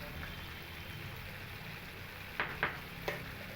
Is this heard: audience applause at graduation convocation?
no